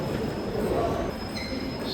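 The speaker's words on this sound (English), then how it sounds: "Garris Lake train arriving now." Train arriving at a platform at Plymouth railway station, a steady broadband rumble of a railcar running in with faint wheel squeal and a thin high whine, against station ambience.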